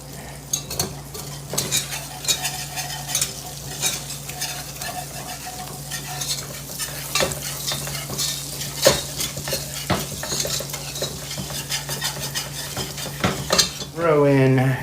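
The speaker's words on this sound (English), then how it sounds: "Throw in just a bit of flour. Don't need a lot. And now we start whisking in earnest." Flour is whisked briskly in a hot cast iron Dutch oven for a roast chicken dish, with continuous metallic scraping and rapid clinking taps over a steady sizzle, close up and loud, and a louder burst at the end.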